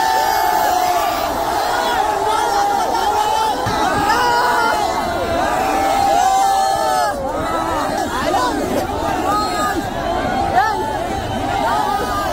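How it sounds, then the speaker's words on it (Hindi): Large crowd packed around a fan meetup in Dongri, a loud continuous roar of chatter, shouts and cheering with voices overlapping throughout, close and dense from start to finish. "बहुत ही ज्यादा क्राउड है, इतनी भीड़ है ना, इतनी भीड़, आपको पता लग रहा होगा।"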